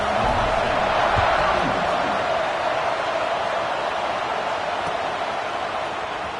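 A football stadium crowd just before the kickoff, heard as a loud, continuous roar of many voices with some cheering. It carries on throughout under a commentator who talks over it.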